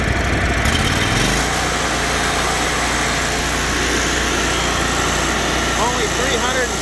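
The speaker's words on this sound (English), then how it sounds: "We'll rev it up." Commercial 48-inch Toro Z Master 5000 Series zero-turn mower engine revving up from idle, pitch climbing after a second and then holding a loud steady high drone, with brief talk near the end.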